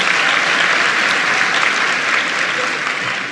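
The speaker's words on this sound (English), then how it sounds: "Give them a big round of applause." A high school commencement crowd applauds the jazz band with loud, dense, sustained clapping that fills the hall at close range and tapers slightly at the end.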